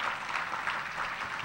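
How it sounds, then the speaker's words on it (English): Audience applause at an award event, steady and soft with faint distant clapping texture and no distinct individual claps, lasting the whole short stretch. "Give Michael a round of applause."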